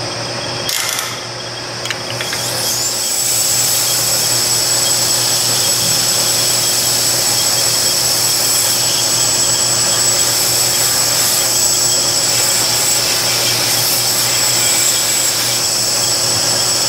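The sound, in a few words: sanding a handmade knife with 800 grit sandpaper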